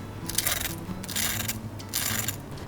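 Crisp skin on deep-fried chicken wings, double-fried in oil, crackles in three separate bursts of dry, brittle crunching, close and moderately loud.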